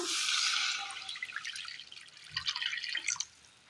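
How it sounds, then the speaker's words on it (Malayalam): Water is poured into a cooking pan set on the stove, a close, splashing trickle that is strongest at the start and then breaks into uneven drips and spatters. "അടുപ്പത്തൊരു ചട്ടി വെച്ച് കൊടുത്ത് അതിലേക്ക് അല്പം വെള്ളം ഒഴിച്ചു കൊടുക്കാം"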